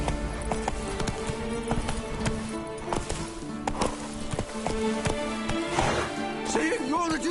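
A horse's hooves clip-clop and drum at a fast, rhythmic gait in The Witcher 3 on PS5, mixed with game music and a few other in-game sounds.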